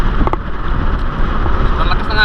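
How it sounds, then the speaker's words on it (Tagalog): Strong northeast monsoon wind at sea buffets the microphone in a continuous rumbling roar, with a faint voice briefly audible near the end. "Sobrang lakas ng hangin, oh."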